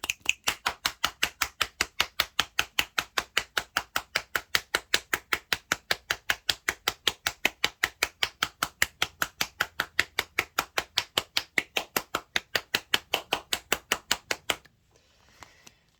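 Rapid, evenly spaced claps repeat in a steady rhythm for about fourteen seconds, close and crisp, then stop abruptly into near silence.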